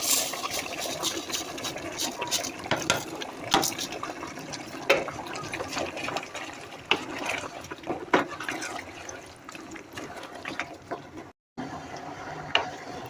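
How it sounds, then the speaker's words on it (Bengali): Hot water pours steadily into a pot of mutton biryani outdoors on a windy day, a continuous splashing rush that cuts off abruptly near the end. "গরম পানি দিয়ে দিলাম"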